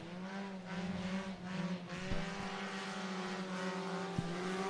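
Cage karts race at Cottage Grove Speedway in Oregon, a steady droning whine of small engines with shifting pitch, heard somewhat distant and fairly quiet, with no talk over it.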